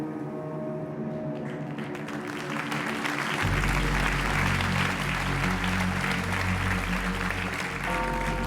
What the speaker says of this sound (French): Vous applaudissez